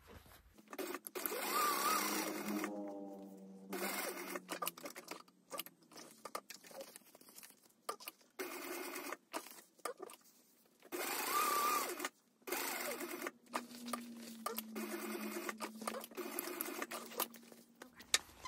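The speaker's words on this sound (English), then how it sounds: "I'm going to top stitch just where there is no stitching already" A sewing machine top stitching a Hugo handbag in short bursts of fast, whirring stitching, separated by pauses with quiet handling and rustling of the fabric, close to the microphone.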